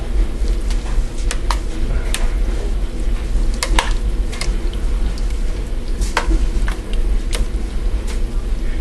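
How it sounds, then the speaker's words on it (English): Chili being stirred in a pot with drained beans, a steady low simmering sizzle beneath scattered scraping and clinking spoon strokes, close and continuous with no talking. "I like to give this a little stir"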